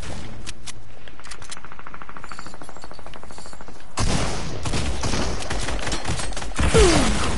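Gunfire and rocket blasts in a PS4 video game, rapid bursts of shots that give way to a dense, loud barrage of explosions and firing toward the end.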